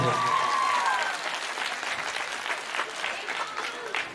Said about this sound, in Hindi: एक बार वही लोग जोरदार ताली बजाएंगे जिन लोगों को हमारे कार्यक्रम का प्रस्तुति पसंद ना आया हो